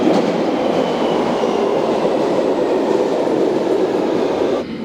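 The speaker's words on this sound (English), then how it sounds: "This is probably the last train in Pimlico station in 2024" A London Underground train rumbles steadily through Pimlico station near midnight on New Year's Eve, a loud continuous roar of wheels and motor that eases off slightly near the end.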